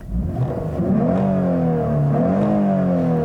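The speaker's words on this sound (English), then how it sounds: "The engine itself is very free revving." A 2019 Lexus IS 350 F-Sport's 3.5-liter V6 engine revving up, rising and falling in pitch as it winds through the revs, loud and close with a smooth tone.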